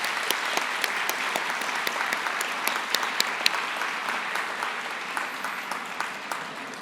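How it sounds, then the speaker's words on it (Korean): Sustained applause from a church chapel congregation, many hands clapping steadily for several seconds, gradually easing off toward the end. "올라오실 때 같이 박수해 주시겠습니다."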